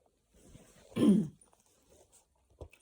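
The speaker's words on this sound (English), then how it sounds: "I'm so sorry for keep clearing my throat like that" A single short, low throat clearing, close and moderately loud, with a faint click or two after it in a quiet room.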